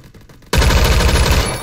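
The Beowulf ECR rifle in Roblox Phantom Forces fires in full auto, starting abruptly after a brief quiet moment into a loud, dense, rapid burst that continues to the end.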